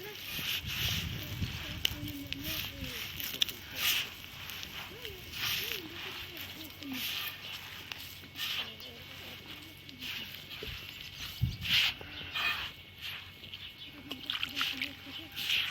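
Hands knead a traditional bread dough made with homemade leaven, producing irregular wet squelching, slapping and sloshing sounds close by that continue throughout.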